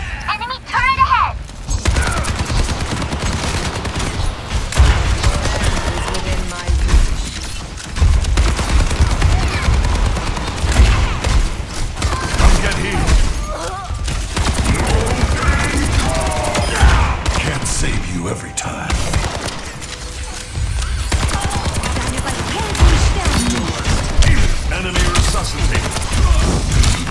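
Enemy turret fire in a video game, rapid bursts of gunfire and mechanical clatter running loud and dense almost without pause, mixed with other game noise.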